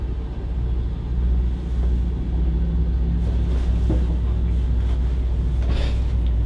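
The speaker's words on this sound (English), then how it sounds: "Excuse the noise. All the motorboat brigade are out." Motorboats passing on open water, a steady low engine rumble and hull wash that holds throughout, fairly loud and continuous with no talk over it.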